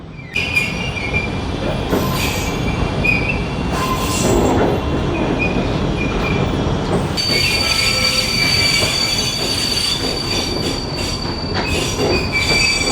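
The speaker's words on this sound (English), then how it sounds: "The train is electric, by the way. Electric motors running it." An electric heritage train rolls along the rails at Carillon Historical Park in Dayton, Ohio, with loud metallic squeals and screeches over a continuous rumble, close by and sustained throughout.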